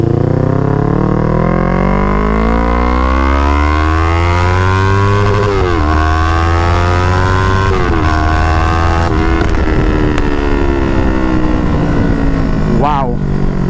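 Yamaha R3 motorcycle with a loud full-system exhaust, engine note rising steadily through the gears with brief dips at shifts, very loud and close throughout, a sharp crackle near the end.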